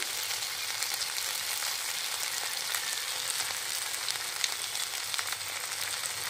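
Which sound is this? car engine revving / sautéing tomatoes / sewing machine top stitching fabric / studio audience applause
sautéing tomatoes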